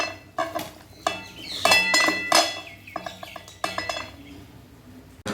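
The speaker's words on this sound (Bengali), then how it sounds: "এইবার সমস্ত কিছুকে কিন্তু খুব ভালো করে একটু মেখে নেব।" Mutton is worked by hand with spices and oil in a bowl for marinating, giving close, irregular clinks and scrapes of metal and dishware with soft squelching between.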